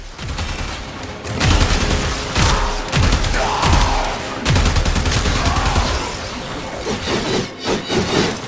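Sustained machine gun fire in the video game Warframe, loud dense bursts of rapid shots broken by short pauses, with thuds mixed in.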